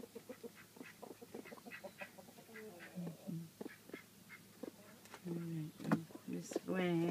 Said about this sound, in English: Oh, Oliver, you are the most handsome rooster.